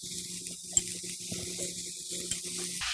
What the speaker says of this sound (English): when the pan is hot enough, I will put this pork belly first.